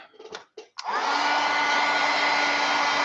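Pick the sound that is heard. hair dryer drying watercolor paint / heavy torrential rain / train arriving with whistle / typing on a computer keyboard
hair dryer drying watercolor paint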